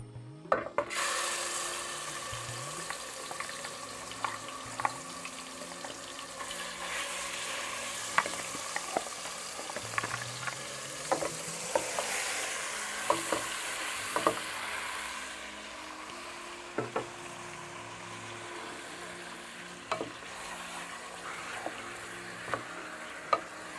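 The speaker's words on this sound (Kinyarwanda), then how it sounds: "duhita dushyiramo za nyama zacu noneho tukazikaranga" Pieces of meat sizzle steadily in a hot pan with a little fat, joined by repeated scraping and clacking as a utensil stirs them, close and continuous with no talking.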